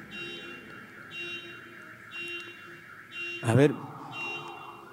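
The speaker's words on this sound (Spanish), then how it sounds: "ya han apagado la alarma" Alarm sounding in a church during a Mass, a steady repeating electronic tone heard beneath a priest's speech and room noise, with a brief louder burst of voice partway through.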